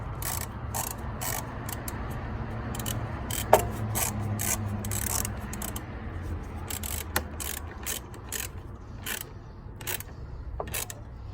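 A ratchet tightens a bolt while working on a 2015 Nissan Versa transmission mount, giving bursts of quick clicking strokes over a low background hum, close and fairly quiet.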